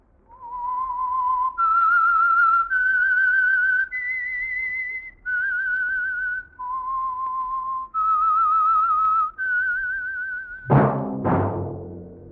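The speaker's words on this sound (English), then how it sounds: "That whistle is your signal for the Signal Oil program, The Whistler." A solo whistler performs the eerie theme tune of The Whistler radio program: a slow melody of sustained, clear notes stepping up and down, ending with a brief orchestral sting.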